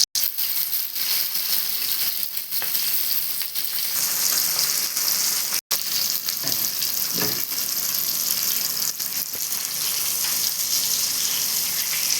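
Ribbon fish (vaala meen) fries in hot oil, giving a loud, steady, crackling sizzle that runs unbroken from start to finish with no talking.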